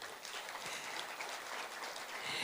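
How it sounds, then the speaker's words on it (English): Audience clapping steadily through at a national teaching awards ceremony, a dense even patter of many hands from start to finish with no voices over it. "So let's clap for the department."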